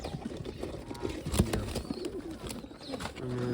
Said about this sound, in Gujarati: આમાં પણ બે કબૂતર છે આપણા બે બે કબૂતર છે